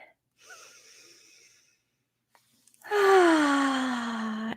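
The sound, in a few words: deep breath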